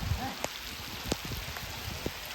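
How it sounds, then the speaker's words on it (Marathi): Heavy rain falls on a rice farm as a steady broadband patter, with a few sharper nearby drop impacts and faint low rustling throughout. "पाऊस पण आलाय मोठा आहे"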